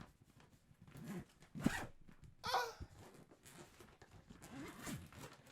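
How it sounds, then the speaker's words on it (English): A thick zipper on a cooler bag is pulled in a few rough, raspy strokes, close and fairly quiet, with some handling rustle around it. "Got a nice, thick zipper."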